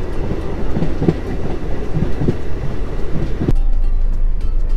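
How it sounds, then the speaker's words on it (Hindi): A DMU local train rumbles loudly along the tracks between India and Nepal with rhythmic clickety-clack and wind noise, heard from inside a second-class carriage, the rumble deepening near the end. "तो ये लोकल ट्रेन ही DMU ट्रेन है"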